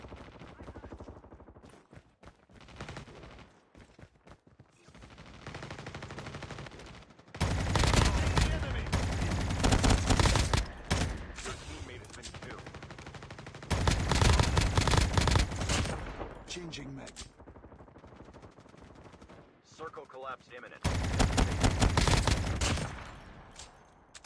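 Bursts of gunfire during a Call of Duty Mobile match on the Alcatraz map, with loud sustained volleys and rapid automatic fire recurring in several waves against quieter stretches of game noise.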